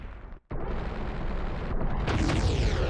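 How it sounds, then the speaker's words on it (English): A long, rumbling boss-defeat explosion in The Legend of Zelda: Ocarina of Time, a sustained roar after a brief dip, swelling into a rising shimmering tail at the end. "Very nice explosion."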